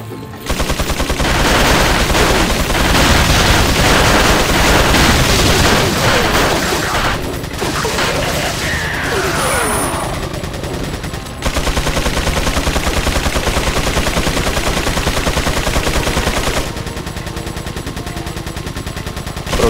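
Rapid gunfire from the video game Resident Evil 4, dense bursts of shots with booming impacts running nearly throughout, loud and continuous with a brief lull midway and no talk.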